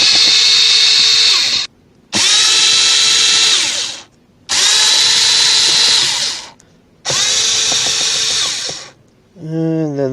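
A power drill backs screws out of a black center console panel on a 2010 Toyota Tacoma, four loud close whirring bursts of about two seconds each separated by short pauses, ending with a fifth brief spin-up.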